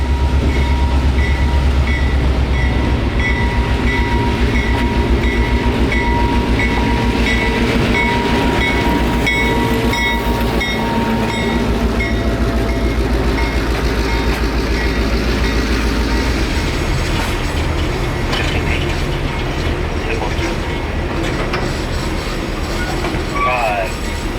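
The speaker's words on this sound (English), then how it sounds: "the train is now pulling back into the Fort Myers Colonial Station" The Seminole Gulf Christmas train pulls into the Fort Myers Colonial Station at night, with a loud, steady rolling rumble of wheels on rails, rattling cars and high wheel squeal building toward the end.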